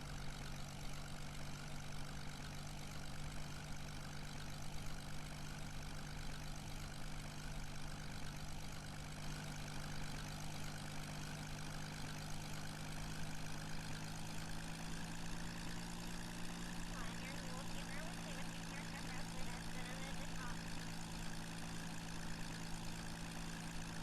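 An aircraft engine in Kerbal Space Program drones steadily during a climb toward five kilometres altitude, a continuous low, even hum that stays constant throughout with no voices.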